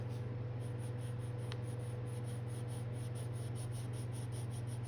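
A Koh-I-Noor rainbow colored pencil, a soft creamy multicolor lead, scratches steadily across paper in close, quiet strokes under a constant low hum, with no voices.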